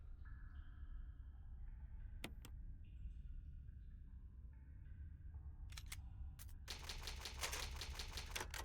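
Rapid typewriter key clatter from the Resident Evil 1 Remastered video game, two short strikes early then a dense burst of clacking near the end, heard over a low steady background hum with game music tones.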